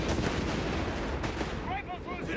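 A Nebelwerfer rocket barrage in Company of Heroes 3 rumbles as a dense wall of explosions and artillery booms, loud and continuous, with wailing rocket whines rising near the end under a voice.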